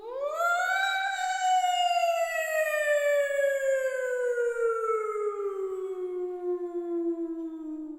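A voice imitates a wailing siren, one long unbroken tone that rises, holds and then slowly falls over about eight seconds, close and with no other sound.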